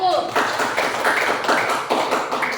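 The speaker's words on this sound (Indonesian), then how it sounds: "Berikan aplaus untuk kelompok 1." A classroom group claps together for a presenting student group, a dense steady patter of many hands at close range lasting a couple of seconds, with voices mixed in.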